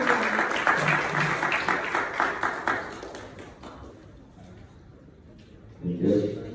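Audience applause at a business networking event, clapping for a speaker that fades away over several seconds before a voice begins.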